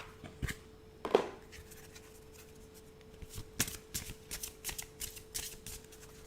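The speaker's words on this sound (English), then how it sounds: "let's get another card out" Cards for a psychic reading are shuffled and drawn by hand, a quick riffle burst early on followed by a series of soft slapping and sliding flicks, close and quiet with no talk.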